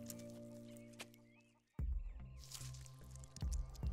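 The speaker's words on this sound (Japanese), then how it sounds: "今の鶏。" Chickens cluck in the anime Fate/Zero, a few short clucks rising over a dull thud and a busy mix of impacts and rustling after a quieter opening passage.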